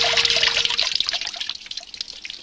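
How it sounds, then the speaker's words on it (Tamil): Water spills and splashes onto a house floor in a Shinchan cartoon episode, a steady close pour and trickle that tapers off toward the end. "ஏன்பா இப்படி தண்ணியை கீழே கொட்டி வீட்டையே நாசம் பண்றீங்க?"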